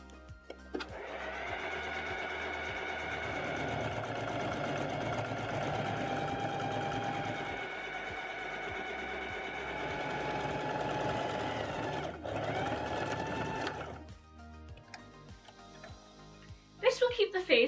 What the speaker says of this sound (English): sew a line of understitching about 1/4 inch away from the seam